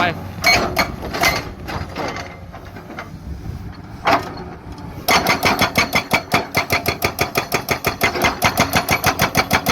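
Komatsu PC200-7 excavator fitted with a hydraulic rock breaker pounding solid rock, rapid loud regular hammer blows after a few scattered strikes and clanks, close and continuous.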